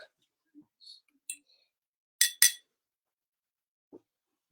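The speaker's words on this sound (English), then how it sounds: "Take your magical mixing spoon and stir it up." A mixing spoon stirs a drink in a glass, giving a few sparse clinks and two sharp, bright clangs close together, then a small tap; near and clear against silence.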